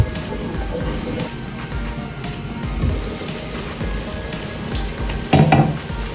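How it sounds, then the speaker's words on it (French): Meat seasoned with paprika, ginger and white pepper sizzles as it cooks in a pan, a close, busy crackle with stirring and a sharper clatter of utensil against the pan near the end. "notre viande qui est vraiment en train de bien bien cuire"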